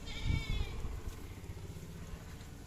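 A single goat bleat rises near the start, then fades into a steady outdoor background hum.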